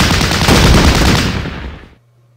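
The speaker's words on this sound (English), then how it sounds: "try to do some suppressive fire and see if anything moves" Suppressive gunfire in the Battle Academy video game, a loud dense burst of rapid rattling shots lasting about two seconds before cutting off to near silence.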